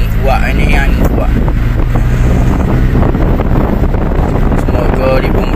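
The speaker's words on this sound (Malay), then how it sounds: "angin kuat ni, angin kuat." Strong wind in Kota Bharu, Kelantan, gusting hard across the microphone in a loud, continuous roar with rumbling buffeting throughout.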